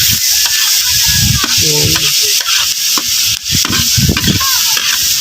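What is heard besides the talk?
garlic frying in a pan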